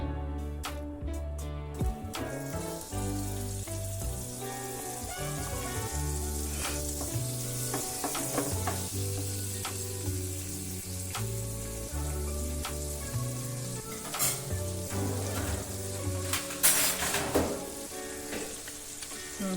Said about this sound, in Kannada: ಬೆಣ್ಣೆ ಒಂದು ಚೂರು ಕರಗಲಿ.